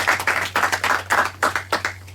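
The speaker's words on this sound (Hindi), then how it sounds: "एक बार जोरदार ताली हो जाए यहाँ पे मौजूद सभी लोगों के लिए" A studio audience on the children's quiz show Genius Kaun, Season 3 junior category, claps in quick, steady rhythmic bursts, loud and close, with no talking over it.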